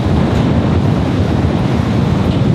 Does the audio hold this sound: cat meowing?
no